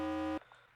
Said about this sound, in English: You just set the self-destruct alarm?